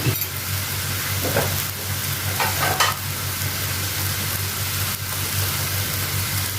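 Prawn thokku masala frying in oil in a pan, a steady close sizzle with a few quick scraping stirs near the start and a low hum underneath, no talk.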